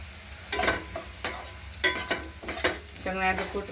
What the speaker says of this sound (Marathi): 1 मिनिटभर तेलात परतून घ्यायचं